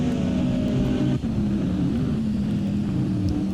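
A BMW M4 GT3 race car engine roars at Monza in a racing video game, a loud sustained drone that shifts pitch around the middle, with no talk.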